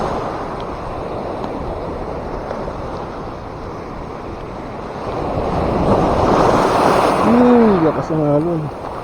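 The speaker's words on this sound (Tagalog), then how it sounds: "Lakas ng alon." Strong ocean surf crashes steadily at a shore fishing spot, a loud continuous wash that swells louder near the end, with wind buffeting the microphone and a brief whistling tone over it.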